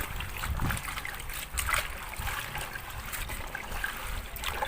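Ketapang leaves being stirred by hand in a container of water, producing a steady close sloshing and trickling swirl that runs continuously with small splashy surges.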